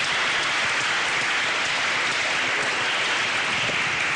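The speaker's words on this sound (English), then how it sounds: "Let's give a big round of applause to our panelists." Steady, dense applause from a crowd, a continuous wash of clapping that holds at the same level throughout.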